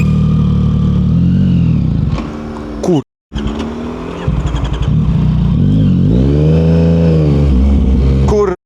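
A loud motorcycle with a loud exhaust revs hard and pulls away from traffic lights in second gear, exhaust roaring with a brief cut-out midway, then climbing through the gears up close.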